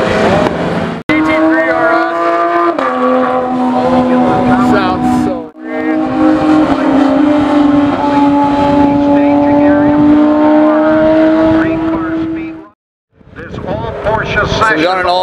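Porsche 997 GT3 Safari race car driving on a track, a loud sustained engine note holding steady through gear changes as it passes, with people talking over it.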